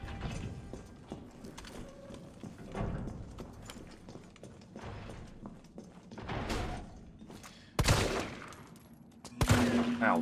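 Shotgun fire in the video game Resident Evil 3 (2020), with mechanical clanks and handling noises building to two loud, sharp blasts near the end.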